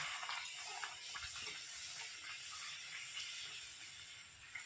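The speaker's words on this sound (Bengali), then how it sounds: "এবার এক এক করে সমস্ত লুচিগুলো আমি ভেজে নেব। তেল অনেক গরম হয়ে গেছে।" Luchi puris fry in very hot oil, giving a soft continuous hiss and crackle that stays faint and even throughout, with no voices.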